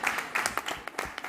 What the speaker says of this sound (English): big applause for Marianne